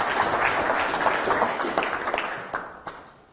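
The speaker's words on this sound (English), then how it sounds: "Can we give him a round of applause?" An audience at a business advisory talk gives a round of applause, a thick wash of clapping that thins out into scattered claps and fades away.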